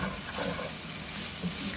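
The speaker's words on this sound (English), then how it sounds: "Let's give it a stir." Dirty rice stirred as it fries in a pan, a soft, steady sizzle with faint scraping as the spoon moves through it, fairly quiet and heard alone.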